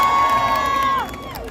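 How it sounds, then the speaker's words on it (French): A crowd at a Paris Games Week cosplay stage show cheers and shouts with a sustained high voice ringing above the noise, which trails off and thins toward the end. "on les applaudit bien fort."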